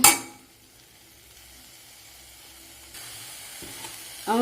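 A spoon stirs jaggery into bisi bele bath in a pan, opening with a clink against the metal, then soft scraping and faint sizzling, with a louder scrape at the end.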